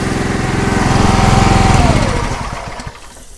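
A trailer-mounted softwash roof treatment system's pump and motor combo runs loud and close with a steady engine drone, its pitch sweeping as the RPM changes before it winds down and fades.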